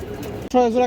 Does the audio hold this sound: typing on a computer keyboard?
no